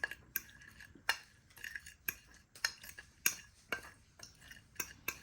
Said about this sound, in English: combine your seasoning.